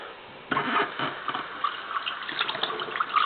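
Water runs over sprouted seeds as they are rinsed, a steady splashing rush that starts abruptly after a quiet moment and keeps a gurgling, uneven texture at close range.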